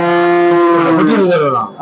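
A cow at the Mele Palayam cattle market on Christmas Day gives one loud, close, sustained moo that lasts nearly two seconds and tapers off at the end.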